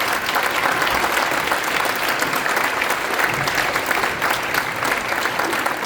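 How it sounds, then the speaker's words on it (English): Loud, sustained audience applause fills a school band spring concert hall, steady and continuous clapping from a large crowd with no talking over it. "Yes, round of applause."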